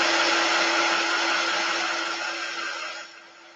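A hair dryer blows steadily on painted wood earrings, a loud close whirring hum with a fixed tone that fades slightly near the end.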